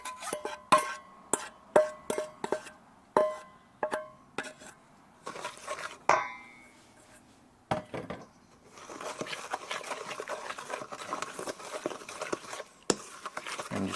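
Beaten eggs mixed into pecan pie filling in a bowl: a series of distinct knocks and taps of utensil on bowl, then a continuous close scraping, stirring clatter, with no voices.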